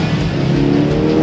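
A sports car at full throttle on a race track, a loud steady engine roar held close with no break, no voices.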